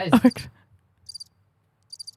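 Soundboard cricket chirps play as two short, faint, high trilling bursts after a brief burst of voice, with near silence around them.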